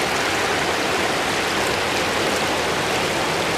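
Broadband rushing water from a small creek, steady and continuous at close range with no voices, a dense wash of flow filling the whole moment.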